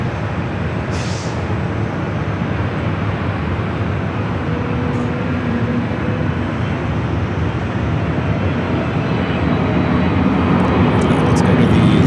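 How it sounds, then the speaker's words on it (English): Korean Air 747-8 Intercontinental pushing back at LAX, a steady broad roar of engines and airport noise, loud and unbroken, slowly building toward the end, with talk over it. "747-8 Intercontinental now pushing back from Tom Bradley."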